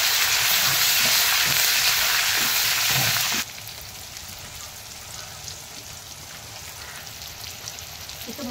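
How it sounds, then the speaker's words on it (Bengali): Curry leaves and ginger sizzle loudly in hot oil for a sour dal, a dense crackling fry that drops sharply to a quieter, steady simmer partway through. "এই আমি এবারে কারি পাতা দেবো। ডালেতে কারি পাতা দেবো।"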